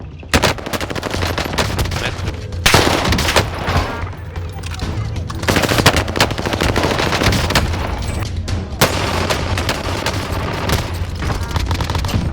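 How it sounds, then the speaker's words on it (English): MP40 submachine gun firing in Call of Duty Vanguard, loud rapid bursts and sustained automatic fire with short pauses between strings of shots, mixed with game action noise. "if I must pick one SMG as my favorite from Call of Duty Vanguard, the MP40 will be the easiest choice I can make"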